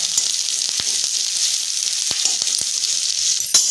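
Onions and chillies frying in hot oil give a steady, close sizzle with a few sharp crackles and pops throughout, and no voices.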